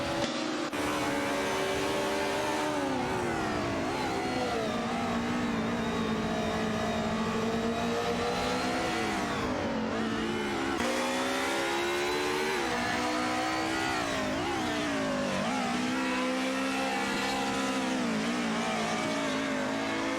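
Racing cars in a video game, including a Mercedes 190 Evo and an Alfa Romeo 155, roar continuously for about twenty seconds, engine pitch rising and falling through gear changes and overlapping as several cars battle closely, loud and steady without speech.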